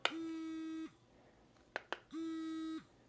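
A remote dog training collar beeps in sound mode: two long steady electronic tones with two short sharp clicks between them, clear against a quiet background.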